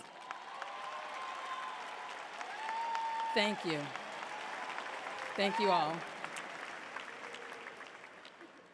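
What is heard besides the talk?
graduation audience applauding faculty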